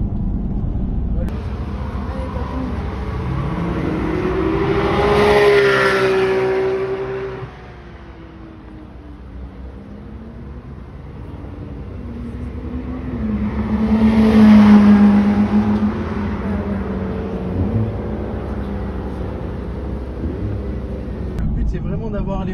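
Corvette C8 sports car on a race track, its engine swelling twice in long accelerating pulls that rise and fade, with an instructor and driver talking over the steady in-car drone.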